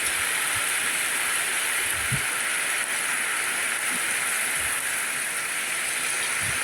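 Heavy rain falls steadily outside a kitchen, a dense, even hiss with no letup and a few faint low knocks underneath.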